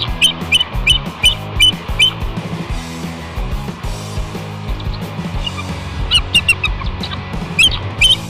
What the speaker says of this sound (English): Here's a bald eagle calling for backup after a fox tries to invade the nest